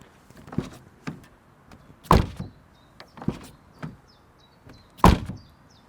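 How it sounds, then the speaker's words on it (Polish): Doors of a Forthing S7 REEV range-extender car shut in a series of short, dull thuds, two louder closing impacts standing out among lighter clicks and latch knocks, close by with no talking. "posłuchamy, czy drzwi się zamykają z należytą kulturą"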